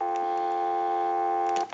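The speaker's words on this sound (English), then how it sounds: "So I could give you some dial tone right now" Telephone dial tone from a Western Electric 302 metal rotary dial desk telephone, fed through a test amplifier: a loud, steady buzzing hum that holds evenly and then cuts off abruptly near the end.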